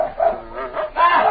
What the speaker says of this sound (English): Pete, quit whipping those dogs